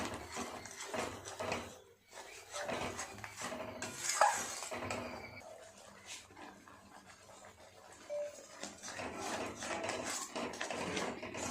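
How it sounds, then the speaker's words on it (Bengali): Spinach and spices are stirred in a pan with a utensil, irregular scraping and clinking bursts with short pauses, a louder clatter midway, moderately close and without talk. "খুব ভালো করে নেড়ে চেড়ে একটুখানি সব কিছু মিশিয়ে নেব, যতক্ষণ না মশলা থেকে তেল ছাড়ে।"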